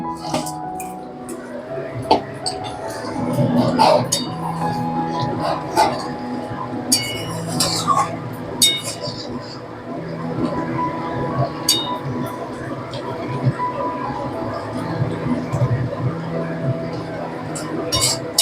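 A spoon clinks and scrapes in a pan of prawn malai curry being stirred with garam masala powder, irregular light taps and squishy stirring sounds, with someone talking over it.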